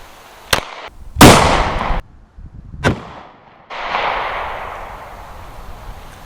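Sharp, loud gunshots crack close by, each followed by a long echoing rumble as rounds are fired into homemade ballistic gel outdoors.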